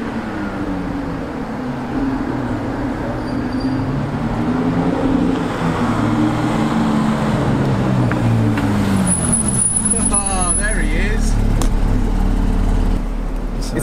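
Lamborghini sports cars, an Aventador among them, rumble past on a road with steady low engine noise and traffic around, one car downshifting near the end as people talk nearby.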